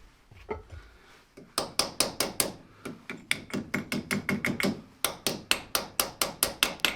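Hammer giving a run of sharp, rhythmic taps on a metal split pin in an old, worn Bateson trailer, close and loud, in quick bursts with brief pauses between groups.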